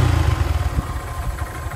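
Honda Grom motorcycle idling with a Chimera air intake fitted, a close, steady low engine rumble with a slightly irregular pulsing throb running throughout.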